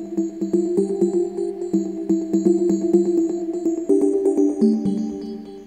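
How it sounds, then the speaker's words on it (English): Chords on a Rhodes-like electric piano synth patch called R&B Keys, with chime-like sustained tones over a steady pulsing beat, shifting to a new chord near the end, with no voices. "I selected a keyboard sound with kind of like a Rhodes piano called R&B Keys."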